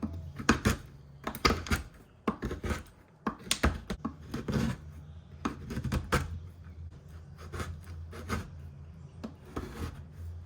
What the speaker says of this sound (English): now we'll get to chopping.